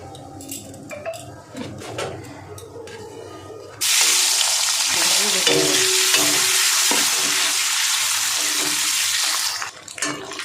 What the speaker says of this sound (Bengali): ওই তেলের মধ্যে আরেকটু তেল দিয়ে ডিমগুলো ভাজবো